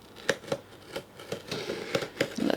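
Scissors snip repeatedly while cutting open a Jesse James bead box, a series of crisp, close clicks and snips at an uneven pace, mixed with light cardboard and plastic rustling, and nobody talking.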